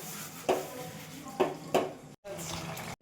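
Dishes are washed at a home kitchen sink, with faint running water under a few scattered clinks and clatters of pots and plates at a modest distance.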